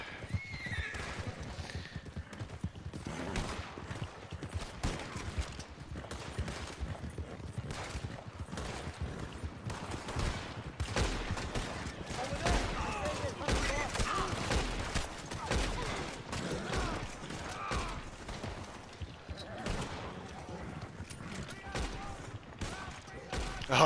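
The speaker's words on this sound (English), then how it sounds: "Oh, I shot the hat off of that guy." Gunfire in Red Dead Redemption 2 pops in sharp bursts and scattered single shots amid horse whinnies and clip-clopping hooves, with voices talking over the busy outdoor action.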